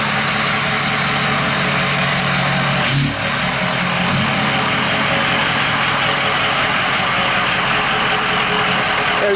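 Ford 6.0 diesel truck engine running: a loud, steady engine drone with broad noisy clatter, continuous throughout, with a brief dip and knock about three seconds in, no talk.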